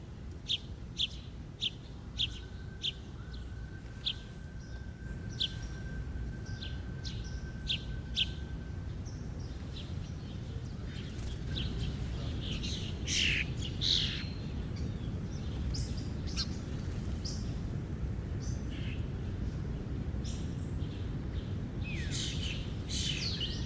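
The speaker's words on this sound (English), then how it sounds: "Central Park bird feeding, Manhattan, NY." Hungry birds chirp and tweet around a feeding spot in Central Park, Manhattan, with quick bright calls scattered over steady outdoor city hum, some close and sharp, others farther off and overlapping.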